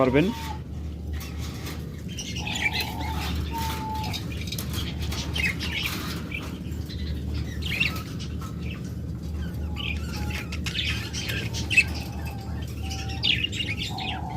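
Lovebirds kept as breeding pairs at a bird sale give short chirps and calls scattered throughout, fairly faint against steady background noise and murmuring voices.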